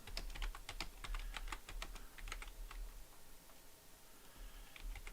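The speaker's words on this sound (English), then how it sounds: "I'm typing into nowhere." Rapid bursts of computer keyboard typing, close and fairly quiet, with clustered keystrokes in an irregular rhythm and brief pauses, heard alone without voices.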